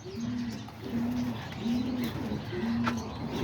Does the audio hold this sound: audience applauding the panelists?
no